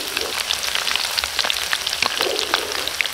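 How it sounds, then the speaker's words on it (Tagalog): A generous amount of garlic fries in hot oil, giving a close, dense crackling sizzle with sharp pops scattered throughout, steady and unbroken with no talk. "Iprituin muna natin yung bawang natin."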